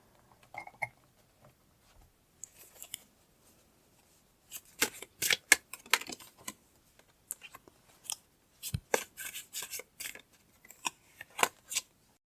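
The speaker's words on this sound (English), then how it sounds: "I'm going to pull some cards to go with them." Tarot cards are pulled and handled up close, giving quiet bursts of shuffling, riffling and sliding card sounds with soft taps between them, scattered irregularly over a hushed background.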